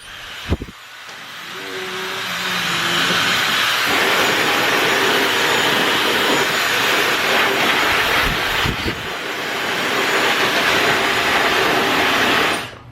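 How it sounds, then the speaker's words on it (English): A hair dryer blows with a loud, steady whooshing roar that runs almost the whole time, with a couple of brief handling knocks and no voices. "you can use a hair dryer and dry off your prints quickly"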